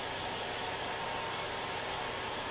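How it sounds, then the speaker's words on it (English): A hair dryer drying chalk-painted Easter egg crafts blows with a constant, even whooshing roar, steady and close, with no pauses. "So I'm going to speed up our drying process and use my hair dryer"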